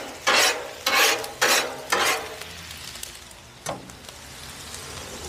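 Eggs cracked onto a hot Blackstone griddle, four sharp bursts of sizzle in quick succession, then a fifth after a pause, over a steady low hiss of cooking.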